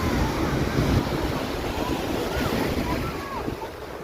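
Steady surf washes in continuously on a beach at Sveti Vlas, Bulgaria, with wind buffeting the microphone and faint voices in the background.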